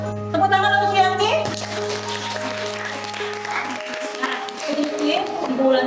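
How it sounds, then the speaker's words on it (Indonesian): Children clapping together in a classroom, a burst of applause that starts after a spoken voice and continues with bright scattered claps, fading and rising again. "Tepuk tangan untuk Yanti."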